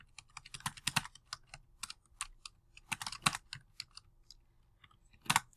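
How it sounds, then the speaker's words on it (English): Keystrokes on a computer keyboard tapping out a paper in a word processor, quick irregular clicks in bursts with heavier thumps like the space or enter key, close and fairly quiet with no voices. "Now I am ready to type."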